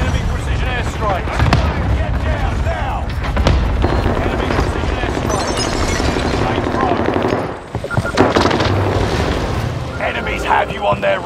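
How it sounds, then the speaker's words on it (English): Enemy precision airstrike in a video game, with dense bursts of gunfire and booming explosions rolling on continuously at close range, alongside a brief drop near the end and game voices speaking over the barrage. "Enemy precision airstrike."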